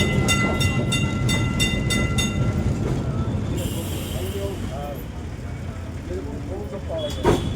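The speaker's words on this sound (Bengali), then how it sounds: "ট্রামটা কিন্তু ভালোই স্পিডে যাচ্ছিল, রীতিমতন স্পিডে" An old wooden Kolkata tram runs along its rails at a fair speed, with a steady rumble and clatter. Metallic ringing tones come early on and wheel squeals sound later, with voices faintly over it.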